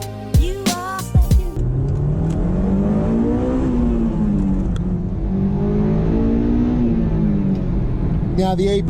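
A Honda S2000 AP2 engine revs and pulls steadily while driving, its note rising and falling through the gears as the VTEC engages, loud and close, with someone talking at the start and end.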